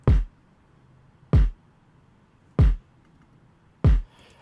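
Four heavy kick drum hits at a steady slow pulse, each with a punchy low thump and a short airy tail from a subtle impact sound with Pro-R reverb layered on top.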